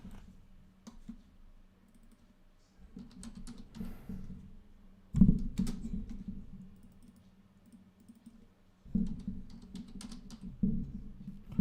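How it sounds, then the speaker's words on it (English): Someone types on a computer keyboard in bursts of quick close clicking, separated by quieter pauses, with no talking. "I'm typing something on Twitter."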